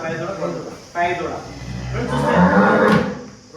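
A cow that has recently calved, standing with its calf at a farm, gives a loud, close moo lasting a couple of seconds, while people talk nearby.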